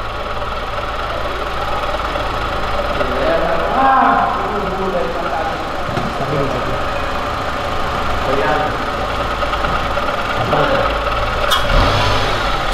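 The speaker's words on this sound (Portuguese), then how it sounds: "Acelera aí o carro." A Honda Civic Si engine idles and revs unevenly in a steady mid-pitched drone, with people talking over it throughout and a sharp click near the end.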